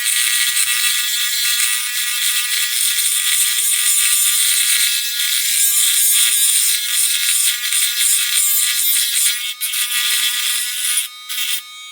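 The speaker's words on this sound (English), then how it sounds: "So I put the grinder on its maximum speed," A high-speed grinder at maximum speed grinds down the tapered end of a tap in a model-making workshop, giving a steady, loud, high-pitched whine with a gritty rattle that runs continuously and wavers briefly near the end.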